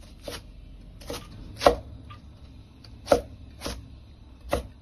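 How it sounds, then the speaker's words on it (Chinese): A kitchen knife chops celery into even strips on a cutting board: six crisp, separate thuds spaced about half a second to a second apart, close and distinct over a quiet background, with no talking. "接着来切芹菜，先切成粗细均匀的条"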